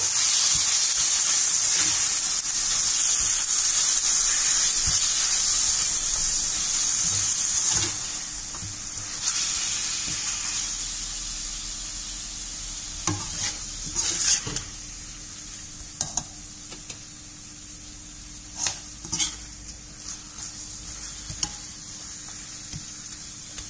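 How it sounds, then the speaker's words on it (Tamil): Marinated chicken with yogurt being stirred into fried onions for Chettinad chicken curry: a loud, steady sizzle and hiss at first, which eases, then intermittent close scraping strokes of a spoon against the pan over continued frying. "நம்ம ஊற வச்சிருக்க சிக்கனை தயிரோட அப்படியே கலந்துக்குங்க. நல்லா கலந்து விடுங்க."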